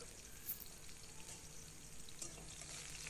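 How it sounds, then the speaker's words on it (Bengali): Onions frying in hot oil in a wok with dried red chillies, mustard seeds and black cumin give a faint, steady sizzling hiss that runs unbroken throughout. "এবার কড়াইতে তেল আর শুকনো লঙ্কা, সর্ষে আর কালো জিরে ফোড়ন দিয়ে একটু পেঁয়াজ দিয়ে দেব"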